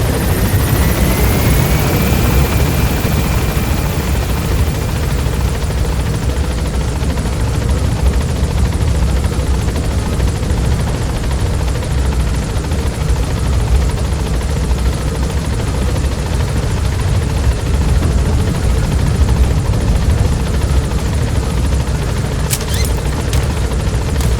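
In Metal Gear Solid V: The Phantom Pain, a helicopter gains altitude with a loud, continuous rotor roar and a thumping drone that holds steady throughout, joined by a brief high whine near the start and a short click near the end.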